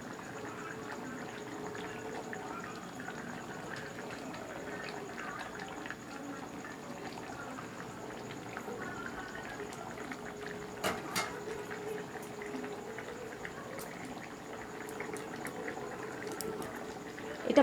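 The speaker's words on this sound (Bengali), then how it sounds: "এগুলো দিয়ে হালকা করে ফুটিয়ে নিয়ে আমি নামিয়ে নেব" Soya chunk curry simmers in a pot with a steady, low bubbling boil that runs throughout, and a few faint clinks of utensils come near the end.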